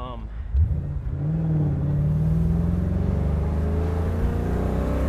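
A Ford Coyote V8 in the Aluminator car with Griggs suspension accelerates hard, its engine note climbing in a rising rev after a sharp start and then holding a steady growl, with a voice speaking briefly at the outset.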